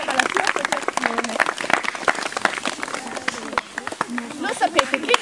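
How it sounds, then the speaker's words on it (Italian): Children and adults clap for a man at an archaeological site outdoors, scattered uneven hand claps of moderate loudness, with talking voices mixed in throughout. "Un applauso, facciamogli un applauso."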